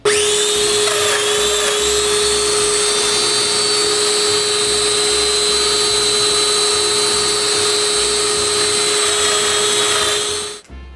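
A mortise cutter bores mortises in wood set in a jig, a loud continuous high whine with a steady tonal hum that runs unbroken for about ten seconds before cutting off, close and alone with no talking.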